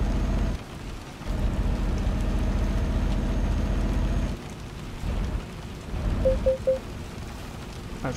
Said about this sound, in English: Rain is starting to come down now